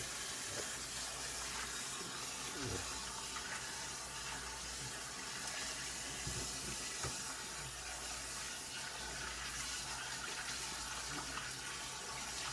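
Tap water runs steadily into a basin while salted young cabbage greens are rinsed for kimchi, a continuous close splashing hiss with faint handling sounds and no voices.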